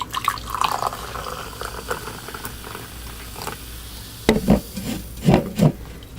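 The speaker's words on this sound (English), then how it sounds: "Let's pour it out." Rockstar Pure Zero Silver Ice energy drink is poured into a glass, a fizzy liquid splash and trickle followed by several louder glugs and fizzing bursts, with no talking.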